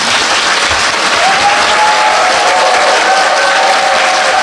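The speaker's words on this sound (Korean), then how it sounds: "다시 한번 굉장히 어려운 과제를 해낸 감독에게 박수 부탁드립니다." A large audience at a film screening and talk applauds the director, loud dense clapping that fills the room evenly and continuously throughout.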